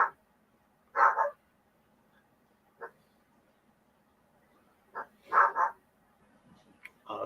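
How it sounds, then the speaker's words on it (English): A pug barks in several short bursts, loud and close, with quiet gaps between the barks. "I got a guard dog. Oh, yeah. Got the guard pug."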